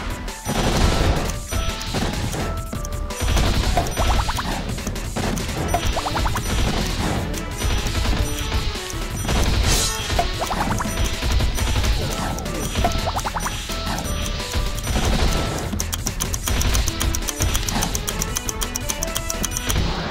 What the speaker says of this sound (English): Use your unlimited flame charge to destroy it.